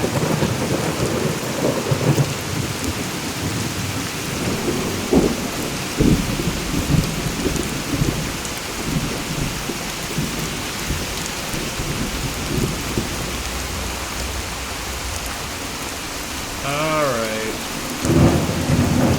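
Rain and thunder in Fallout 4, a constant wash of heavy rainfall with low rolling thunder rumbles and a louder crack near the end, and a single brief spoken word.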